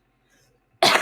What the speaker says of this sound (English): sorry for coughing throughout all this